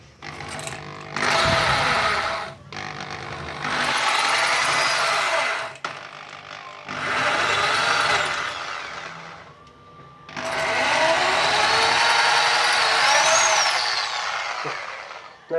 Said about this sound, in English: Let's drill through the others.